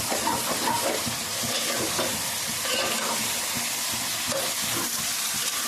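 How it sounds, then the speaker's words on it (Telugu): Chicken pieces tossed and stirred with frying onions in a pan for mango chicken curry, a continuous close sizzle broken by repeated spatula scrapes. "చికెన్ వేస్తాను కదా ఇప్పుడైతే కలుపుకుందాం బాగా"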